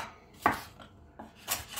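A knife cuts finely through a red bell pepper on a board, giving a few sharp, close chopping clicks spaced out over a couple of seconds with no talk.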